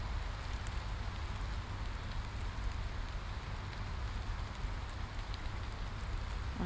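Rain in the Wolf Simulator video game pours as a constant, dense hiss of drops on surfaces, steady throughout with no talking.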